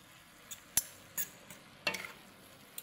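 A utensil stirs Bisaya pancit bihon with pancit canton in a pan over low sizzling, giving a handful of scattered scraping clinks, quiet and close with no voices.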